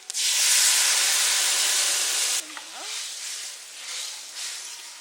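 Spices, onion and tomato fry loudly in oil with a dense, bright hiss for about two and a half seconds, then drop to a softer, uneven sizzle with brief movement sounds; no voices.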